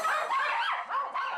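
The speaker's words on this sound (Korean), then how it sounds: "누군가 움직임만 보이면 공격적으로 짖는 장군이" A dog barks aggressively and repeatedly, reacting to people moving past a ground-floor home; loud, close, continuous yelping barks with no talking.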